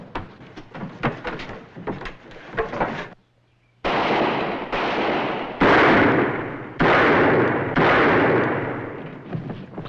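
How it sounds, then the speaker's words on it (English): Gunshots ring out in a western shootout, a rapid volley of sharp cracks followed by a brief silence and then five loud, booming blasts spaced about a second apart, each with a reverberant tail. "Mr. Buntline, here's where I use your gun."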